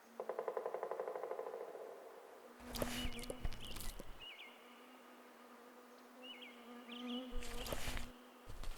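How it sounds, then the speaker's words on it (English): Faint insect buzzing, as from mosquitoes, drones near and far in a quiet wilderness, with intermittent higher whines and brief rustling bursts. "She prefers to chase away mosquitoes."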